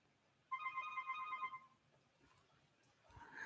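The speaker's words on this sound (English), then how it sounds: "I don't know why this phone ringing." A phone rings indoors with a single electronic ringtone burst of bright, stepped tones lasting about a second, fairly clear over faint room noise, then fading out.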